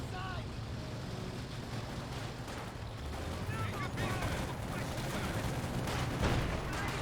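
Gunfire and artillery rumble from a World War II battle in Company of Heroes 2, with a Churchill Crocodile and Command Panther in the fight, form a dense, continuous wash of distant shots and booms under a voice.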